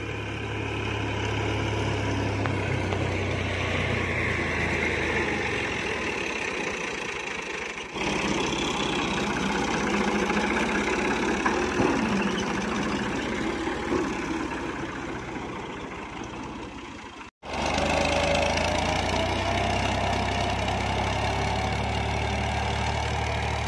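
A tractor with a plough hitched behind idles steadily at close range on a village farm field, its low engine rumble continuous for the whole stretch with one brief cut near the end and no talk.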